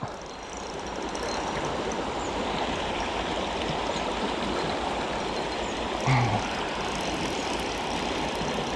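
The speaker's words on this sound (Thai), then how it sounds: "น้ำไหล" Water from a stream rushes and gurgles steadily in a forest setting, a dense, close wash of sound that holds without pause, with a brief knock partway through.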